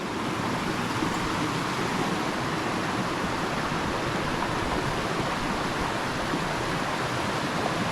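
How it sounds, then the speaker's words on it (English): Aber Falls waterfall in Wales, a dense continuous roar of falling water filling the whole clip, steady and broad with no pauses or voices. "That is the waterfalls at Aber Falls in Wales."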